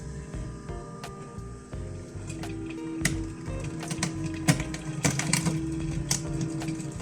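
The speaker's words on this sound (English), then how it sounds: "press the power button on, and just take a listen to see how it sounds now" Vitamix FoodCycler FC-50 food composter running indoors with a low steady mechanical hum, overlaid by irregular faint clicks and ticks from the grinding mechanism.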